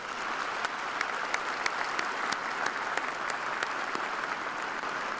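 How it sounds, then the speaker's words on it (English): A large audience applauds at a university fall commencement ceremony, with a steady, soft, distant wash of many hands and a few sharper individual claps standing out. "Let's give them a round of applause."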